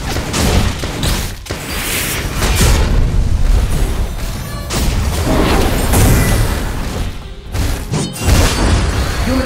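Turret being destroyed in the mobile game Legend of Ace, with loud, repeated booming explosions and crashing bursts in quick succession amid busy game effects.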